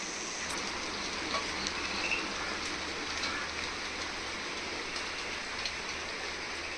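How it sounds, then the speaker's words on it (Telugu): Steady rain falls in the hills between Ooty and Coorg in a continuous broadband hiss, an even, moderately loud wash with faint scattered drop patter and no voices. "కానీ రాత్రి నుంచి వర్షం పడుతుంది"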